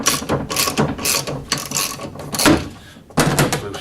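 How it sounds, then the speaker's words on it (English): A 1/2 inch ratchet with a 17mm socket loosens the blade bolt on a Hyundai HYM400P petrol lawn mower, its pawl clicking close up in several rapid bursts separated by brief pauses. "So I'll just undo this bolt, and I've got a 1/2 inch ratchet with a 17mm socket."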